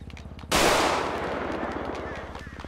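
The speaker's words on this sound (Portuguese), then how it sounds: "Caramba, teve até tiro, mano." A sudden loud gunshot burst at a wedding in the GTA V roleplay game, a sharp crack followed by a long fading rattle of gunfire, over background chatter and voices.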